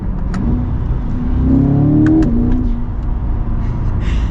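A 2024 Chevy Corvette accelerates hard, its engine note rising steadily and then easing off, loud and close without any talk.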